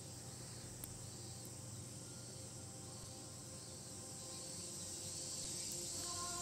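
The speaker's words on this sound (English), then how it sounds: "the sound of cicadas made me feel dizzy" Steady, droning cicada chorus in the Tsukihime visual novel, a dense continuous buzzing that holds at a constant level throughout without any voices.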